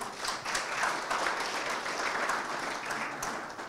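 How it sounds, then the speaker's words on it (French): Steady applause from an audience at a formal meeting where annual reports are presented, a dense even patter of many hands clapping throughout, fairly close and without talk. "On peut l'applaudir."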